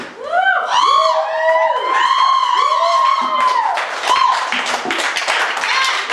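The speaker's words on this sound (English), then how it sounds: "This is like bigger applause than when this place was packed." An open mic poetry slam audience breaks into loud, sustained applause with several high whoops and cheers rising over the clapping, close and lively throughout.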